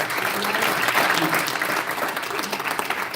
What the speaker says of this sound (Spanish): Un aplauso al Señor, aleluya.